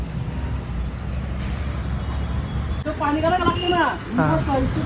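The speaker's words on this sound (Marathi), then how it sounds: "आता मालाची गाडी येली" A goods truck pulls up, its air brake releasing a sustained hiss over low engine rumble, with people talking nearby toward the end.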